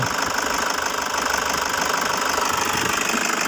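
A Toyota Hiace 2KD diesel engine idles smoothly nearby, a loud, constant rhythmic clatter with an even knocking pulse and no gaps, running alone with no voices.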